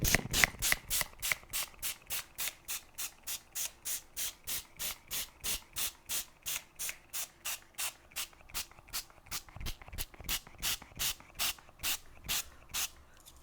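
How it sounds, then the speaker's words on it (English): A spray bottle mists a mixed media journal page in a steady series of quick, sharp hissing bursts, about three per second, close by, with no talking. "let's go ahead and spray down this side of the journal layout"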